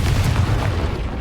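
A Confringo spell exploding in a wizarding video game, one sustained low booming blast that rumbles loudly and close throughout, with no talk.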